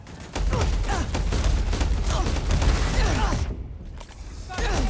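In the Starfield video game, gunfire breaks out as a rapid, dense volley of sharp shots and impacts. A brief lull follows before the firing resumes, loud and close.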